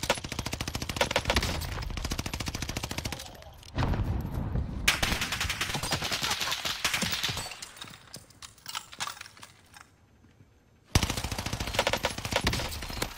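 An Automaton rifle fires in the shooter game Warzone, sending dense, rapid bursts of loud gunfire that break off into short quieter lulls before the shooting starts again.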